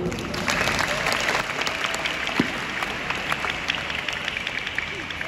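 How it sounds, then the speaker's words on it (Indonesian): Applause rolls through the crowd at a Perisai Diri martial arts championship in Bali, Indonesia, steady and dense claps from many hands filling a large hall throughout. "Aplaus untuk semuanya."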